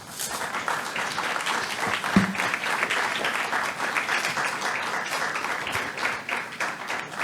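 Sustained audience applause at the India SME Excellence Awards ceremony, a thick, continuous crowd clapping that stays fairly loud and even throughout, with one brief louder knock partway through.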